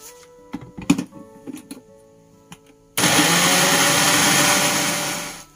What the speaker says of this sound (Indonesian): Kita kisar halus.